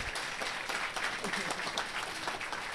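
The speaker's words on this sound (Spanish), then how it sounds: "Un aplauso para nuestro amigo." A theatre bar audience applauds during a live comedy show, steady moderate clapping from a crowd with some voices mixed in.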